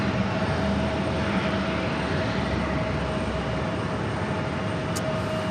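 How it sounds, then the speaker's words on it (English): A WestJet Boeing 737 taxis toward a gate at New York's JFK airport, its engines giving a steady, continuous jet whine and broadband rumble at moderate distance, with no voices over it. "Oh, it's this WestJet. WestJet is going into gate 7."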